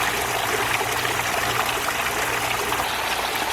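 Water trickles steadily from a homemade bamboo waterfall in a tropical backyard, a constant close splashing hiss with no talk.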